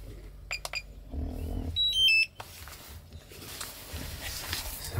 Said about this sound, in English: My freaking drone is beeping.